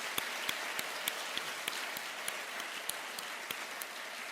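Audience applause at a morning community education event, a steady, moderately quiet wash of many hands with a few crisp individual claps popping out at regular intervals.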